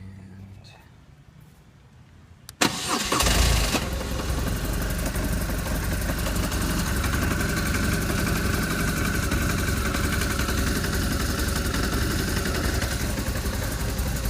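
A BMW R1200RT-P police motorcycle starts with a sharp catch after a quiet lead-in, then settles into a close, loud, steady idle that holds evenly to the end.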